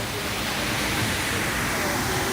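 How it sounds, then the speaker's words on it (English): Waterfall seen from the Kilimanjaro Safaris ride at Animal Kingdom, a steady, dense roar of falling water with no breaks, continuous throughout. "But that waterfall is really nice right there."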